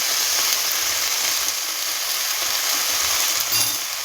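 Turmeric stirred into frying spices in a pan for a pomfret fish curry: a loud, steady, close sizzle with faint scraping from stirring throughout.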